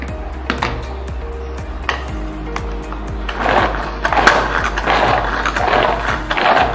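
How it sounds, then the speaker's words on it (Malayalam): A home blender chops beetroot, cucumber, mint leaves and water for juice: scattered rattling clicks first, then a louder, rough grinding whir that builds and continues up close until the end. "നമുക്ക് നന്നായിട്ട് അടിച്ചെടുക്കാം."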